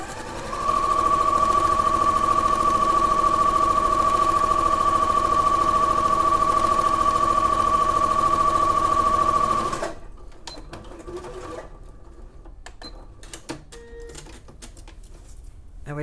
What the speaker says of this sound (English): And you just stitch around.